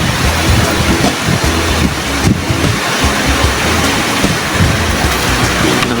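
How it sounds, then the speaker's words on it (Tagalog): Heavy typhoon rain pours down in a constant loud rush, dense and roaring like surf, with no voices. "Lakas na kasi ng ulan."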